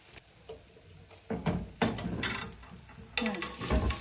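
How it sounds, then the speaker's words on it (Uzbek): Gentle sizzling of layered flatbread frying in oil, broken by a few scraping stirs and clinks of a pan. "Har bir qatlama uchun 2 qoshiqdan yog' quyib qovuriladi."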